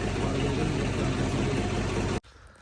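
A tractor engine rumbles loudly and steadily at idle with a low vibrating drone, then cuts out abruptly near the end, leaving quiet background.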